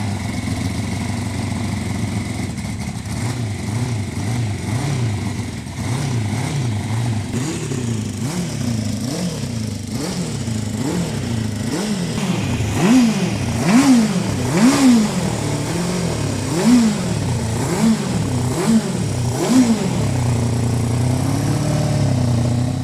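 A sidecar motorcycle engine starts and revs repeatedly on a racing circuit, a steady rumble rising and falling in a series of throttle blips that grow louder toward the end, heard alone.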